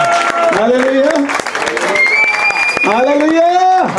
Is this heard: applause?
yes